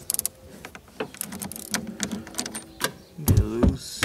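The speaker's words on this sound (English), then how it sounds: "Now to remove your terminal, you'll grab a 10mm socket and ratchet." Quick metallic clicks of a 10mm socket and ratchet loosening the battery terminal on a BMW E46, a rapid rattling run of ratchet clicks followed by heavier clunks as the terminal comes loose.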